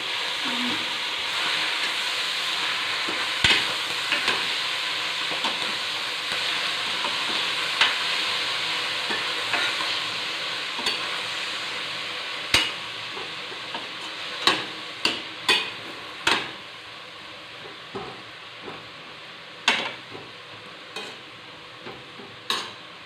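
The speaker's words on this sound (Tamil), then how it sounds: "பின் பொன்னாங்கண்ணி கீரையை எடுத்து சட்டியில் போட்டு நன்றாக வதக்கவும்" Ponnanganni greens being sautéed with chillies in a pan, giving a steady close frying hiss with stirring scrapes and occasional sharp spatula knocks toward the end, no voices.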